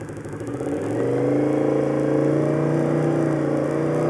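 A motorcycle engine starts back up and revs, rising quickly from a rough clatter into a steady, loud running drone at close range.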